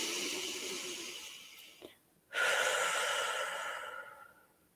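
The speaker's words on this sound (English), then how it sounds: "take a deep breath" A single slow, deep breath taken in quiet, a soft drawn inhale followed by a long, gentle exhale, close and alone.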